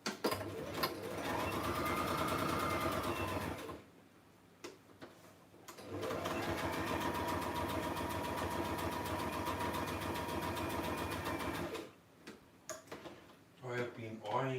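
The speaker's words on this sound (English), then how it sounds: "I'm just going to make a bit of noise here and just sew these tags very quickly." A sewing machine stitches tags onto a handmade journal in two long, steady bursts of rapid mechanical whirring, separated by short pauses with faint handling noises, close and fairly loud.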